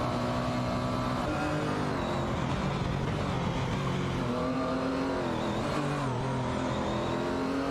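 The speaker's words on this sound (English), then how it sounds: "Currently, Feds in a McLaren F1 is engaged in a tight battle with Lacroix 1980 in a Porsche 911 GT1 for that 10th position." Racing cars roar on track in a video game, a McLaren F1 battling a Porsche 911 GT1, with continuous loud engine drone and shifting revs, several cars blending together.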